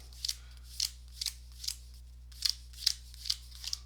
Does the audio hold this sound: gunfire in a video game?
no